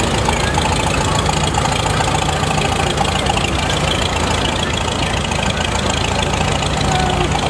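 A 1947 Farmall H tractor engine runs at a parade, a steady loud rumbling chug with a knocking beat that continues throughout, mixed with outdoor noise.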